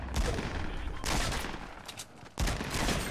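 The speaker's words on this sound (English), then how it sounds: "He's shooting me." Rapid gunfire in the video game Fortnite comes in three dense bursts over about three seconds, loud and close, with a player's voice mixed in.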